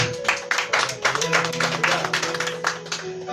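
Rhythmic hand clapping from a church congregation praising God, steady claps in a brisk beat with a low sustained tone beneath and voices mixed in.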